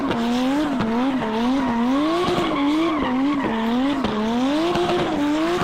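A Subaru drift car slides with a sustained tire squeal that rises and falls in a wavering pitch, loud and close, while the engine and wastegate blow off in repeated sharp bursts.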